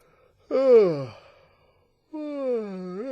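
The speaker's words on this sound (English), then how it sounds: "Whew, that yawn come out of nowhere." A person yawns aloud twice indoors during a family Scrabble game on Easter Sunday: a long, voiced, falling groan, a pause, then a second drawn-out yawning breath, close and fairly loud.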